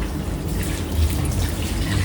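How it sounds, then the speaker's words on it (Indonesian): Tap water runs steadily while hands are rinsed under the flow, a close, continuous splashing with no speech. "Lalu bilas menggunakan air mengalir."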